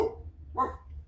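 Dogs bark faintly in the background, one short distant bark standing out over a low steady hum.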